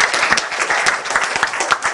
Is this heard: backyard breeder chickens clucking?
no